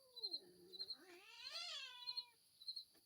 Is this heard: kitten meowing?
yes